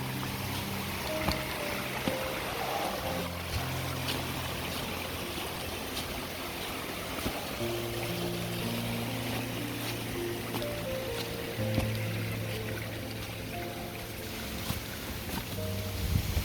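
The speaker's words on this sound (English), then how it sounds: "look at the wee waterfall now" A small waterfall in Swan Park, Buncrana, flows steadily throughout, a continuous rushing wash of water under faint background tones, with no speech over it.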